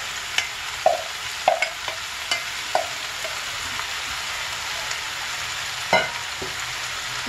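Tripe sautés with peppers and onions in a pan, a steady sizzle broken by several crisp scrapes and clinks of stirring at irregular intervals, close up and without talk.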